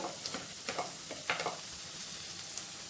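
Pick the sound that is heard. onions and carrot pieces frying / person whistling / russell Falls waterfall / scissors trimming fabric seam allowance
onions and carrot pieces frying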